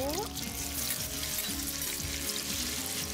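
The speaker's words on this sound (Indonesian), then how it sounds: "Kita goreng tahu terlebih dahulu." Tofu frying in hot oil in a home kitchen gives a continuous crackling sizzle with bubbling, watery textures, fairly close but moderately quiet.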